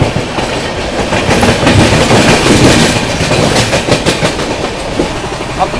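The Howrah Rajdhani Express, a New Delhi to Howrah train, runs fast on its rails with a loud, steady roar and rhythmic clickety-clack of wheels over joints, heard from on board.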